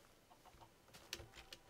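Chicken clucking in Minecraft modded with Industrialcraft and Buildcraft, a few short faint clucks in quick succession amid quiet game ambience.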